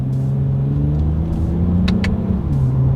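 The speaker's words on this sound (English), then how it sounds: "Let's test out the paddle shifters here first, and let's see how quickly they are going to react for us here." A 2020 Toyota Avalon TRD accelerating with paddle-shifted gear changes gives a steady, loud engine drone inside the car. The engine note rises gradually, then shifts briefly near the end.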